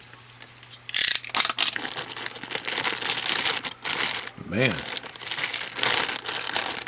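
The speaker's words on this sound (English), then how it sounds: "try not to tear the plastic bag." A plastic bag crinkles loudly as it is pulled open, in bursts of rustling and crackling close by, with someone talking over the handling.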